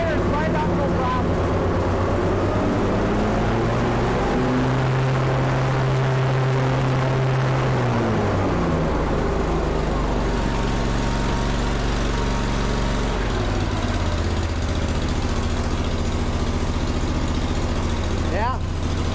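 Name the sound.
Kohler CH25S twin cylinder engine running, Grasshopper zero turn mower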